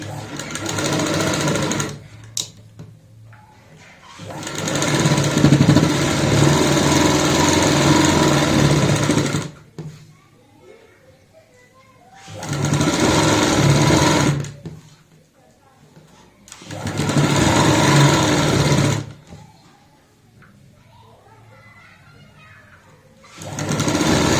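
A sewing machine stitches frilled baby gown fabric in several loud, steady bursts separated by pauses, with a voice talking during the quieter gaps.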